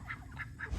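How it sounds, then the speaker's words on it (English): Pet ducks, a male and a female, give three short nasal quacks in a row, close by and fairly loud, with no voices over them. "Their quacks are significantly different."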